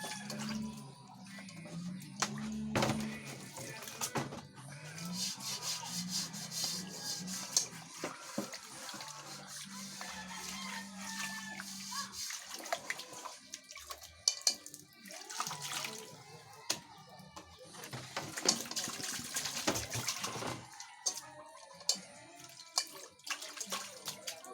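Dishes are washed under running tap water, a continuous splashing stream broken by scattered clinks and knocks of crockery, fairly quiet and with no talking.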